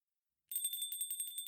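Door chimes ring as a sound effect in a Christmas ghost-story audio drama, a bright, rapidly repeating metallic chiming that starts abruptly after a moment of silence and continues steadily, close and clear, with no voices.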